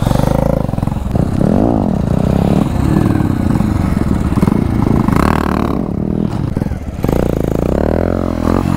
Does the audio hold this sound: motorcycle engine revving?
yes